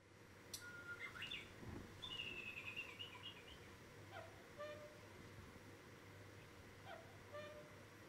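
A battery-operated cuckoo clock sounds its electronic bird call, a few faint chirps and tweets spaced apart over a low steady hum, fairly quiet and without talk.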